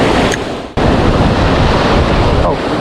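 Rough, heavy sea surf roars in a broad, loud wash, punctuated by a brief drop and renewed rush, with strong wind buffeting the microphone close by.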